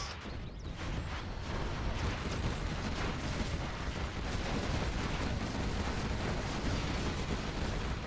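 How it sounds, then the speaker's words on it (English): Artillery barrage in Command & Conquer Zero Hour, a dense, steady rumble of overlapping booms and blasts filling the whole stretch with no pause, loud and continuous without any voices. "Artillery coming in now"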